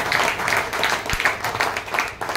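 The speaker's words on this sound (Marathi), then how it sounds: "आता एकदा जोरदार टाळ्या म्हणून होतो" Audience applause at a welcome during an event, a burst of many hands clapping with uneven, fluttering rhythm, moderately loud and close, lasting a couple of seconds.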